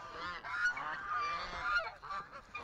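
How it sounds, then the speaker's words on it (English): A flock of Canada geese honking continuously, overlapping calls at moderate distance with no talking. "Look at all the Canada geese"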